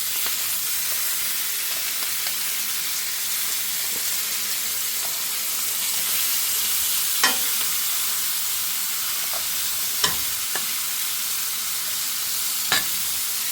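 Meat frying in a pan gives a steady, fairly loud sizzle and hiss throughout, with a few sharp clicks or scrapes from the pan standing out near the end.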